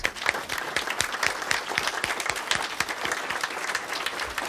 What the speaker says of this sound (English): let's take this time to give Cynthia a big round of applause